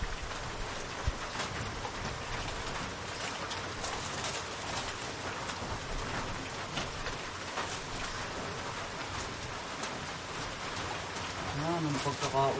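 Steady rain pours down outdoors, a continuous dense hiss of drops on surfaces that stays even throughout, with someone talking faintly under it near the end.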